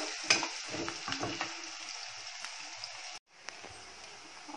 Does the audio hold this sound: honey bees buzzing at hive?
no